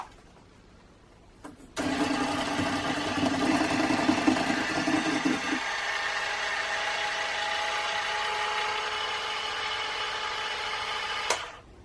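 An electric mixer beats lemon cake batter with caster sugar. It switches on abruptly and runs as a loud, steady motor whine, dips slightly in pitch partway through, then cuts off at the end.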